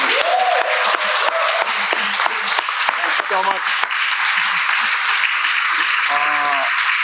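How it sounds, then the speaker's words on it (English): Sustained audience applause for forum panelists at a discussion on DEI in schools, steady and full throughout, with a speaker's voice talking over the clapping. "a sounding applause for our brave panelists who have been proving and doing this"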